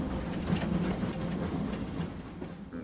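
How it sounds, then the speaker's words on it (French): Belle-époque Pornic-Paimboeuf steam tram rolling past another tram, a steady rumbling clatter of wheels on rails with a low hiss, loud and close throughout. "On croise une rame qui va vers Pornic."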